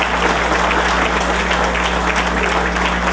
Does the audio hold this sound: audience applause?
yes